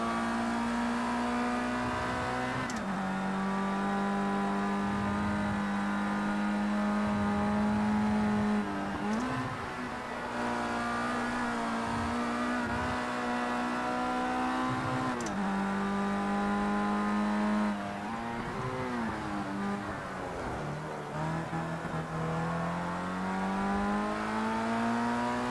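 Race car engine in Project CARS 2, a loud continuous drone held at high revs, dipping and climbing with gear shifts and throttle changes through corners, with no speech over it.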